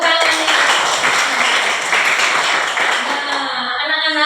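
Children in a classroom clap their hands together in a dense, sustained burst of applause that stays steady for several seconds, with a few voices mixed in.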